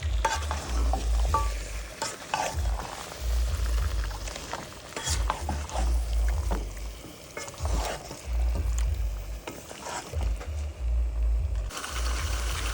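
Spices frying in a pan while being stirred, giving a close, loud sizzle broken by repeated scraping strokes of a spoon against the pan in a regular rhythm, with no talking.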